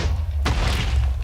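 An explosion in a block-based video game blows up a figure after it drops down an extra block: one sudden, loud broadband blast about midway through, fading into a rumbling tail.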